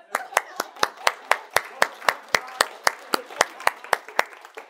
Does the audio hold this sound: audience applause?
yes